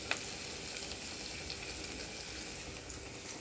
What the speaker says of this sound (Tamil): நல்லா கலர் சேஞ்ச் ஆகிற வரையும் ஃப்ரை பண்ணிக்கோங்க